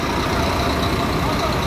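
A well-kept double-decker coach, fleet number 2380, idles with a steady, dense engine rumble and broadband hiss that hold constant and close throughout.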